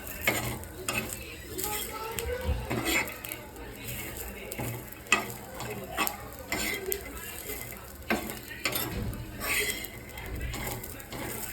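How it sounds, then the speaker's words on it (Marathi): Peanuts and chillies are roasted in a pan until reddish, with repeated scraping and stirring strokes, light rattling of the nuts against the metal and a faint sizzle, close and fairly quiet. "शेंगदाणे आणि मिरची छान असे लालसर भाजून घ्यायचे आहे"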